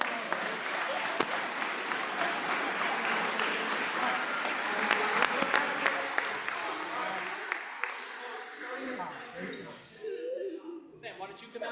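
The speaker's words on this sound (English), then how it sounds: "And one more round of applause" Audience at a school board meeting giving a round of applause, dense sustained clapping with sharp individual claps, loud in the room, thinning toward the end as voices and movement take over.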